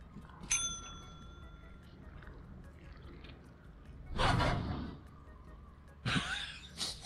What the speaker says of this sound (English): Press the bell